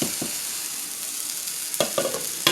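Hog maws and onions frying in a pot, a continuous close sizzle broken by a few sharp utensil clinks and stirring scrapes near the end.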